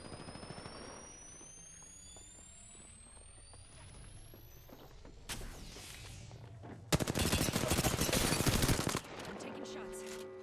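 Automatic weapon fire in the Apex Legends Arena mode, bursts growing louder partway through with a loud, dense stretch of rapid shots near the end, over steady game ambience and effects.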